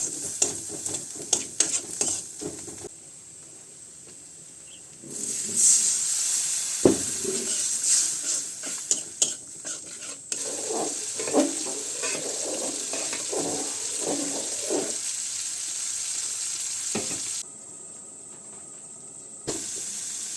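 Onion with chili and coriander powder frying in a pan for egg curry, heard in uneven stretches of sizzling and stirring that pause and resume, with quieter gaps and faint splashy, water-like noise, no talking.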